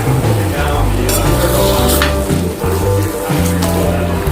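Soaked rava dough cooked and stirred in a pan, giving a continuous loud sizzle with scraping and stirring noises of a utensil against the pan.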